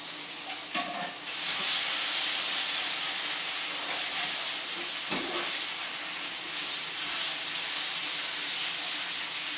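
Bacon strips frying in a pan, a loud steady sizzle and hiss running throughout with a few soft scrapes and stirring knocks near the start.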